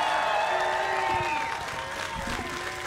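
A crowd at a World's Strongest Man event cheering and applauding the strongmen, a dense wash of clapping and shouts that gradually thins out over about three seconds.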